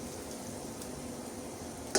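Tempering for mango pickle sizzles and crackles steadily in a hot pan, with a brief sharp clatter right at the end.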